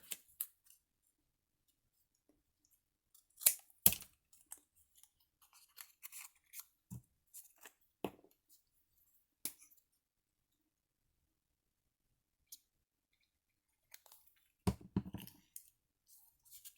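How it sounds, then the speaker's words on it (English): Scissors cutting cardstock into a small tab, sparse, faint and close snips and clicks scattered among stretches of near silence. "So I'm going to add this little piece of cardstock. Just going to cut that into a little tab."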